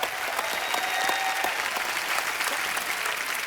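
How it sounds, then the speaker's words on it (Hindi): A studio audience at a comedy show applauds the cast, with continuous dense clapping at a steady level and a few brief tonal squeals over the crowd. "फ्रेंडशिप अनलिमिटेड की पूरी कास्ट के लिए एक बार जोरदार तालियां हो जाए।"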